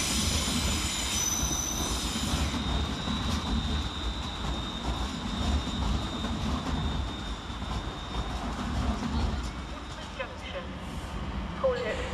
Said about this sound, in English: Next in to arrive is 378-220, terminated with a London Overground service off Watford Junction.